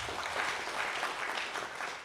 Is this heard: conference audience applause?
yes